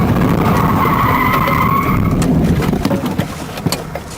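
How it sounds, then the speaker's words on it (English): A car's tires skid loudly and continuously before it slams into an SUV, the screech fading into a few rattling knocks near the end. "The car eventually crashes into an SUV, causing the airbag to pop out"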